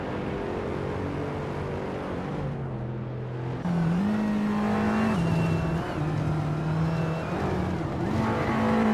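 Race cars, including a 2015 Mercedes-Benz A45 AMG, pulling away at the start of a race in a racing video game, a moderate engine drone rising and shifting pitch in steps as they accelerate, no talk.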